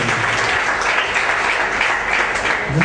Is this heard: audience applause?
yes